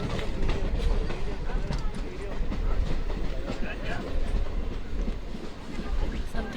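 Passenger train running on rails between Banihal and Srinagar, a steady dense rumble and rattle of wheels and carriages throughout, heard from inside the train with faint background voices.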